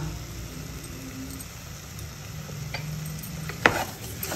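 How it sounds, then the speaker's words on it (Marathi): Dry semolina, sugar and cardamom powder are stirred together in a bowl, making soft gritty scraping under a low steady background hum. A single sharp knock of the utensil comes near the end. "आता आपण चांगलं हे मिक्स करूया"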